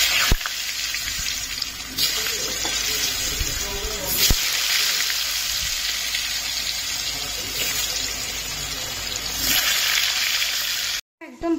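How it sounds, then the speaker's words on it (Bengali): Cut potatoes hit hot oil in a wok, giving a steady loud broadband sizzle and crackle that runs for about eleven seconds, with a few sharper pops as pieces drop in, before cutting out abruptly near the end. "তেলটা আমার গরম হয়ে গেছে, এবার আমি দিয়ে দেবো কেটে রাখা আলুগুলো।"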